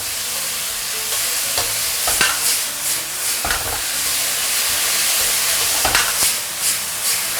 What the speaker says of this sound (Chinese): 这个不要炒久了啊，快速大火去翻炒它几下。